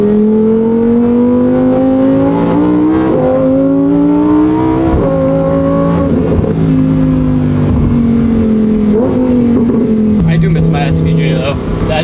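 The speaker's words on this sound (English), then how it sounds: "And this is the last NA V10 from Lamborghini." Lamborghini's last naturally aspirated V10, producing almost 640 horsepower, revs loud and close while driving, its pitch climbing and falling in repeated smooth sweeps through the gears.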